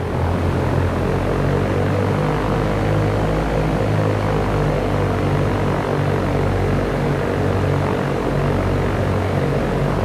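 A light aircraft's engine roars during takeoff in the X-Plane 11 flight simulator. A loud, continuous propeller drone with a steady droning hum holds unbroken throughout.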